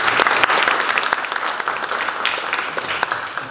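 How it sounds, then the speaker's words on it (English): Loud, close audience applause at an elementary school parent and family workshop, dense and even across a few seconds with crisp individual claps. "So let's give a round of applause to our special presenter, Jenny Wu."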